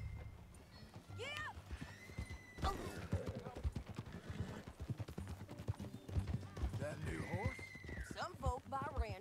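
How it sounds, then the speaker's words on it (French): A horse galloping in the video game Red Dead Redemption 2, with steady clip-clopping hoofbeats and several whinnies, all under ongoing talk. "Ça, c'est mon bon gros cheval, ça."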